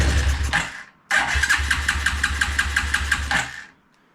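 A 1993 Suzuki King Quad 300 4x4 ATV, recently repaired after a no-spark fault, cranks briefly, then catches and runs with a rough, pulsing putter up close before cutting out.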